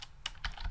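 A few crisp computer keyboard clicks tap out unevenly, close and fairly quiet, with short pauses between keystrokes, as commands are typed while setting up an Ubuntu server.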